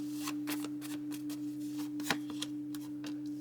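Tarot cards being shuffled and drawn up close, with a run of crisp, rhythmic riffling bursts and a sharper snap of a card, over a steady low hum.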